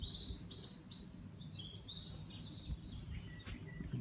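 A bird-song doorbell chime: chirping, bird-like electronic tones warble in short repeated phrases, fairly quiet over a low background hum.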